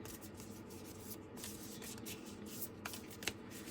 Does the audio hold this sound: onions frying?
no